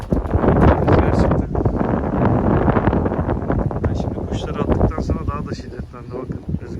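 Strong wind roars continuously against the microphone in the morning, with gusting rumble and buffeting throughout, while a person talks over it in Turkish.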